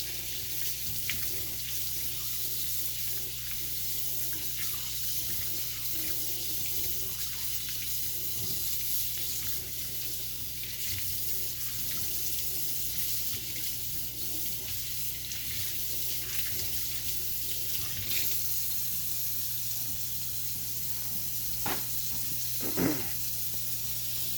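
Hands are rinsed under a running tap during a handwashing technique lab, giving a continuous even stream of water with faint splashing changes, close and steady with no talking.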